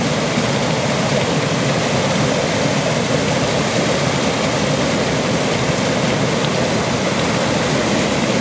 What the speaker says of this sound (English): Waterfall, Waukegan River.